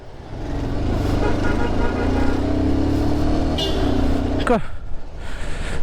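A modified 220 BS3 motorcycle is ridden on a road near Ooty, its engine droning steadily and loud with wind rush throughout. Voices talk over the ride.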